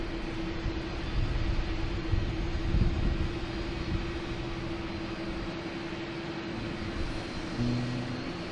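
A jet airliner landing at Boston Logan, its broad engine roar steady and fairly loud throughout, with a sustained low hum and swelling rumble, heard alone without voices.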